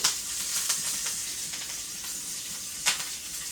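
Curry leaves dropped into hot oil with urad dal for tempering sambar give a steady bright sizzle and hiss, with sharper crackling pops near the start and one more flare of spitting toward the end.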